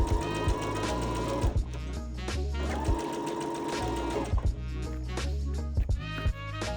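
A sewing machine stitches a 1 cm seam along the edge of a tie-front vest, its needle chattering in fast, even bursts close by, stopping briefly and starting again several times.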